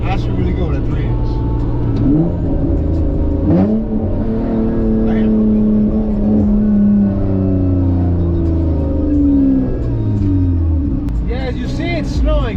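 A Honda Accord with a custom 3-inch exhaust revs up and down several times in a snowy outdoor spot, the deep engine note climbing and falling loud and close.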